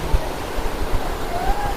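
Gandahati waterfalls roar as a steady, loud wash of falling water, broadband and continuous throughout with no breaks.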